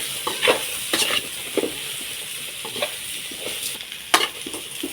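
Raw banana slices frying in oil in a pan, stirred with a few scraping strokes over a steady close sizzle, with sharp clatters now and then.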